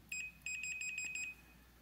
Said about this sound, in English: set it to a sound beep. So you should be able to hear.